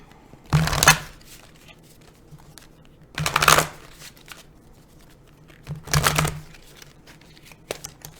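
Cards are drawn from a deck in three separate papery swipes spaced a few seconds apart, close and distinct against quiet, with a faint tick near the end and no talking.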